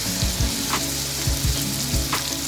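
Chicken sizzles steadily in a hot pan for biryani, a continuous close frying hiss with a few soft stirring scrapes and thuds recurring through it, no voices.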